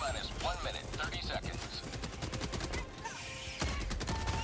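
The Incendiary Scorcher fires rapid bursts in Helldivers 2, crackling shots dense and steady against a busy battle background, quiet overall with brief pauses between volleys.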